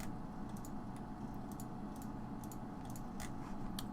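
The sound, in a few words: computer keyboard typing noises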